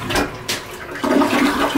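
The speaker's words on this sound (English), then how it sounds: "I could probably flush. Yeah, I'm doing it." A toilet in a once-abandoned mansion flushes, a close, loud rush of water that swells after a brief click and keeps gushing to the end.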